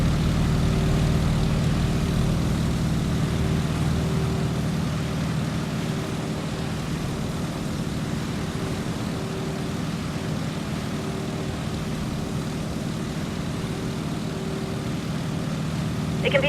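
Boeing Stearman PT-17 biplane's propeller engine in a flight game, a steady, loud droning hum held evenly throughout with no break.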